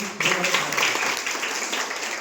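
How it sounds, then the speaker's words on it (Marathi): Schoolgirls at a school guidance program clap together in a brief, dense burst of applause, close and steady, lasting a couple of seconds. "टाळ्या वाजवा खरंच"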